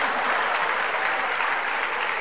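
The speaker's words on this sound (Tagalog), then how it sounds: "Dapat mas malakas ang palakpak dyan." A church congregation at a Filipino sermon claps together in steady, dense applause that fills the room, loud and even throughout with no break and no talking.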